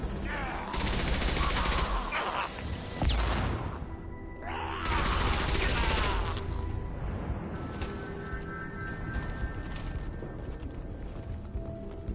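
Weapons firing in the sci-fi shooter Mass Effect 2, heavy bursts of gunfire with booms and impacts in two loud waves, then quieter combat ambience with voices mixed in.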